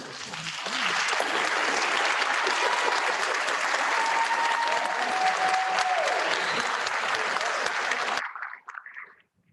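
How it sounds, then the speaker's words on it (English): Sustained, loud crowd applause at a graduation ceremony as the audience honors a performance; dense, unbroken clapping fills the room for about eight seconds, then stops abruptly with a faint trailing murmur. "Would you please stand so that we can give you one more round of applause?"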